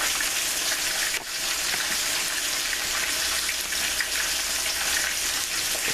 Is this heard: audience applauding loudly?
no